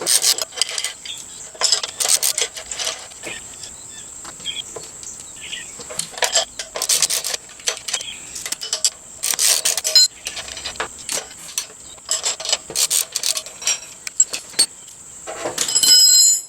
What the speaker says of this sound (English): Then you can take your ratchet and take them out.